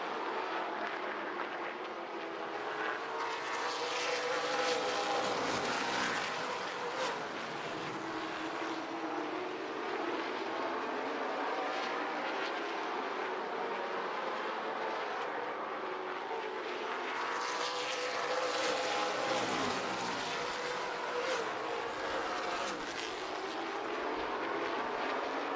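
Super late model race cars on warm-up laps at South Boston Speedway, a continuous loud engine roar that swells and fades as the field passes, with no voices.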